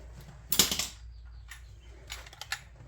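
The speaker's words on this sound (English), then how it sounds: "you should get yourself one of these extendy handle ratchets. This is a Harbor Freight one" A Harbor Freight extendable-handle ratchet works on bolts during a brake job on a 1983 Toyota Tercel wagon, giving a quick burst of close, rapid clicks followed by a few more scattered ratchet ticks.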